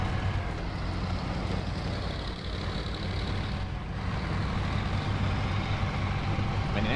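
A heavy truck engine drives at low speed in the SnowRunner off-road video game, a steady, meaty low rumble that holds throughout with no talking over it.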